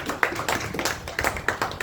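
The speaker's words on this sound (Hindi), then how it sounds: "हम लोग जोरदार तालियों से स्वागत करेंगे।" A church congregation claps in welcome, a steady patter of many hands at moderate distance filling the whole stretch, with no voices standing out.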